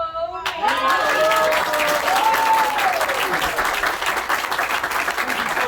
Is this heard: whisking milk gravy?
no